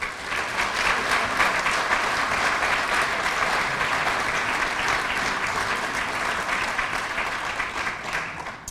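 An audience at an author talk claps to welcome a speaker: a loud, dense, sustained burst of applause from many hands that holds steady and then tapers slightly at the end.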